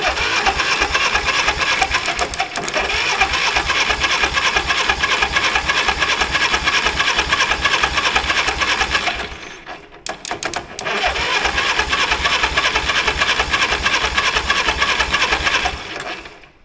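A 1960s Caterpillar pony engine being cranked to start, giving a loud, fast, steady mechanical chatter that cuts out briefly near the end before resuming, with no speech over it.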